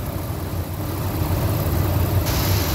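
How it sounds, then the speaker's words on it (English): A 1999 Ford F150 with a 5.4 engine idles nearby. It gives a loud, steady, even rumble with a constant low hum throughout and no talking. "You can hear it's running good."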